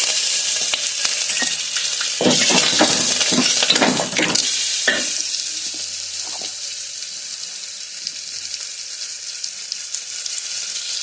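Steady crackling sizzle of curry leaves and asafoetida frying in hot oil, with a burst of stirring and louder spattering early on before settling into a constant fry.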